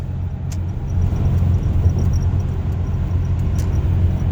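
A Chevrolet S10 pickup cruises at a steady 60 mph with the foot off the gas, giving an even road-and-engine drone with faint clicks over it. The noise stays constant and fairly loud, with no talk.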